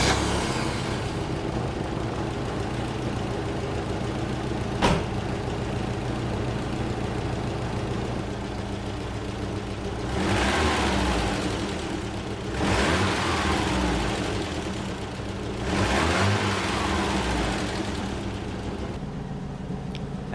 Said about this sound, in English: now let me show you how well this engine turns